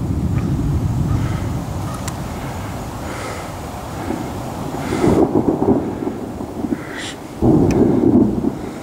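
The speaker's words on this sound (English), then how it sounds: "This storm is upon us. Right upon us." Thunder from an approaching storm rolls and rumbles continuously outdoors, with heavy low booms swelling near the middle and end over a background wash of rain and wind.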